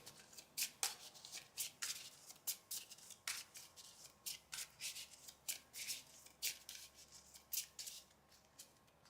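A deck of Redemption CCG trading cards is shuffled by hand during tournament play, producing a quick series of crisp riffling bursts and soft card slaps, close and clear, in a quiet room.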